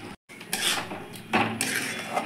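Peas and cashew paste stirred in a cooking pan for a vegetarian matar paneer, with a spoon scraping and clinking against the metal in close, uneven strokes, a brief silent gap near the start, no talking.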